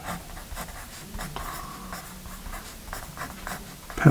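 A Paper Mate Write Bros 0.9mm mechanical pencil scratches across paper in a steady run of soft, close strokes with brief pauses, and no voices are heard.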